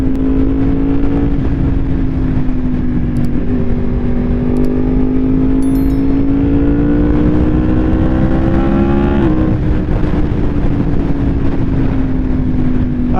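A motorcycle engine revs hard and pulls away, its loud steady drone rising in pitch through the gears with a brief shift break, close and continuous, with no talking.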